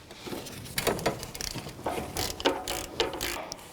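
Close ratchet clicking as it turns a 14 mm socket on an alternator mounting bolt of a 2006-2012 Toyota RAV4 2.4L, in quick bursts of rapid metallic clicks separated by short pauses.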